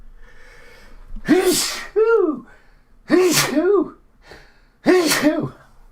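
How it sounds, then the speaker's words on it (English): Three sneezes in a row, each a sharp gasping inhale bursting into a loud explosive sneeze, close to the microphone with brief pauses between. "Gotta sneeze"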